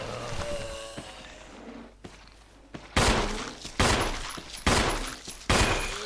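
Heavy gunshots from the video game Resident Evil HD Remaster: four loud, evenly spaced blasts in the second half, each ringing out, following quieter thuds and game noise.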